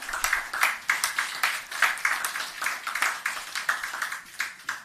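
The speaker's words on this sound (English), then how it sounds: "So, Minister, can we just give him another round of applause?" A small audience at a government media briefing on Hurricane Melissa recovery claps for the minister. Sharp, closely spaced hand claps repeat at a fairly even rhythm for about five seconds at moderate volume.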